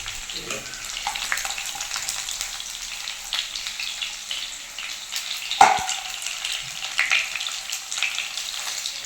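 Chicken sizzles steadily as it fries in hot oil, a constant crackling hiss with a sharp pop or scrape partway through.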